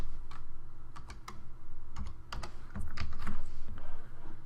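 Keys on a computer keyboard are typed in quick irregular bursts of close, crisp clicks while JavaScript code is written, with no voices.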